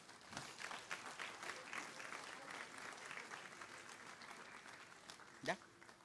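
A church congregation at a general meeting applauds, a soft continuous patter of clapping heard at a distance with a voice briefly rising near the end.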